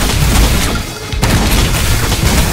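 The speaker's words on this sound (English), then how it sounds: "let's get the shotgun up again" Dense, loud gunfire booms in the game Yet Another Zombie Survivors, with shotgun blasts overlapping continuously and only a brief dip in the barrage.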